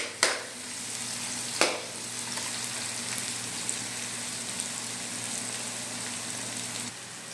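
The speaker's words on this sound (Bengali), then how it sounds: "অবশ্যই পেঁয়াজটা ভালো করে ভাজে নেবেন।" Onions frying in a pan with a steady, close sizzle that runs throughout, broken by two sharp stirring clatters near the start.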